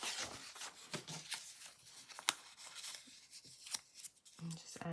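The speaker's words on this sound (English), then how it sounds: "I'm just going to tear a little piece to fit in there." A small piece of paper is torn by hand for a junk journal craft, giving close, soft crackling and ripping bursts with a few sharper snaps, some faint voice in the background.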